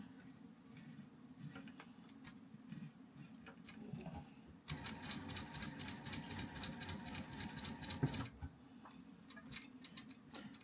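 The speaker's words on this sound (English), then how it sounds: "my machine isn't too loud, which is surprising considering it's an industrial machine" An industrial sewing machine top stitching a card slot on a wallet, a quiet, fairly steady rapid ticking run of stitches lasting a few seconds between softer mechanical handling noises, faint and close with no talking.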